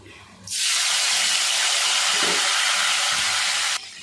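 Tomato and onion paste hitting a hot pan for a mutton curry already holding cardamom, cinnamon and cloves: a sudden loud, steady sizzle that lasts about three seconds and then cuts down, with no talking.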